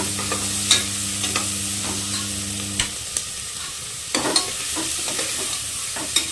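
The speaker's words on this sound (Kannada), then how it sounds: "ಇವಾಗ ಇದನ್ನು ಕೂಡ ಹಸಿ ವಾಸನೆ ಹೋಗೋ ತನಕ ಫ್ರೈ ಮಾಡ್ಕೊಳ್ಳೋಣ" Ginger garlic paste fries in a pan for a chilli chicken gravy, giving a steady close sizzle with scattered spatula taps and scrapes; a low hum runs under the first half.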